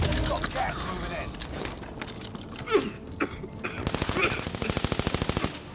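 Rapid automatic gunfire from Call of Duty Warzone on Rebirth Island, with scattered shots first and then a fast, loud burst of evenly spaced rounds. Players talk over the game audio.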